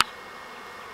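A honeybee swarm buzzes steadily near a hive, a dense, continuous hum that stays even and close for under a second after a brief opening knock.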